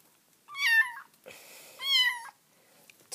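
A cat meows twice, close and clear, each call rising then falling, with a short pause between them in an otherwise quiet room.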